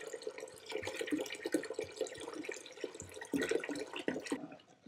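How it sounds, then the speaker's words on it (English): Water is poured into a fermentation vessel holding palm sugar syrup, giving soft irregular splashes and trickles at close range, fairly quiet, with no voices. "I'm going to pour a little bit more of our water in here to cool it down"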